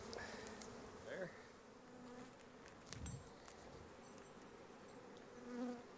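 Honey bees buzz in a steady, dense drone while a beehive is opened and split, the hum close and continuous with a few louder swells as bees pass near.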